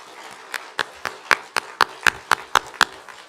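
An audience at a school music and theater awards night claps for Thespian Troupe inductees, a sparse, evenly spaced run of about a dozen distinct, close claps.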